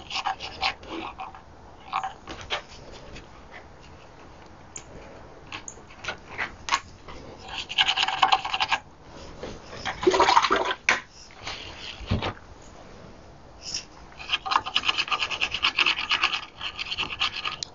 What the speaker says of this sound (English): Let me just get the glue out from inside first. So I just use a little wet brush.